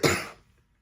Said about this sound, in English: I'm just so over this cough